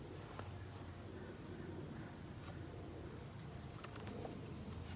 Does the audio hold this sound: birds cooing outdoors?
yes